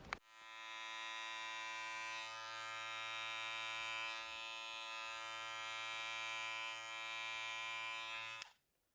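Electric trimmer clippers running near the microphone on eyebrow hairs, a steady high buzzing whine for about eight seconds, switched on and then off, with a faint lower hum partway through.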